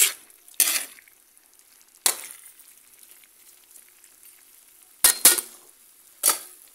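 Squid with pepper being stirred in a frying pan for a coconut-milk stew, heard as a few separate short scraping bursts of a utensil against the pan over a quiet background.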